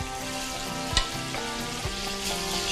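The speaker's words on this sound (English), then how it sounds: "now I'm gonna use that goodness to saute some shrimp" Peeled, deveined medium shrimp sauté in leftover bacon fat in a pan, a steady close crackling sizzle with a few brief clatters of stirring, no one talking.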